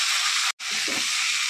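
Cauliflower and potato pieces drop into a pan of frying coriander, cumin, ginger and chili paste, a steady loud sizzle broken by a brief hush, then soft stirring clatter beneath the hiss.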